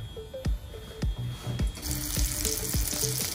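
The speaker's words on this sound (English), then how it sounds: "putting a little bit of oil for shallow frying" Mutton shikampur kebab patties shallow frying in a little oil, a steady sizzle with soft spatters and a few light taps of utensils, close and fairly loud with no talking.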